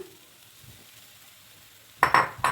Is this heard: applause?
no